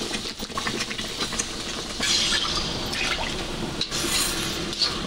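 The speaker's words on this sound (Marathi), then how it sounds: "अर्धा लिटर पाणी घालतोय." About half a litre of hot water is poured into a pan of roasted semolina at a tea stall, giving a steady splashing, sizzling fill with brief drips, close and moderately loud, without voices.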